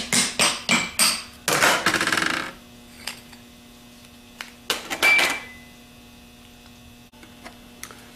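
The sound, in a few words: tapping back lid off Denso starter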